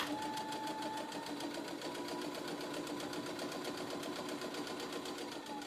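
A sewing machine stitches a pillow cover in a steady, continuous run with a fast, even mechanical chatter and motor hum, and no pauses or voices.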